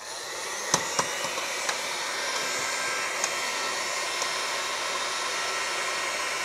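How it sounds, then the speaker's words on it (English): A heat gun blows steadily while heating a truck control arm bushing on a solid axle, a continuous hot-air roar with a few faint clicks and taps, close by and with no talking. "I'm gonna use my heat gun"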